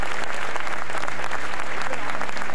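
Dense, sustained applause from a large supportive crowd at a cycling world championship podium ceremony, a steady loud wash of clapping lasting throughout.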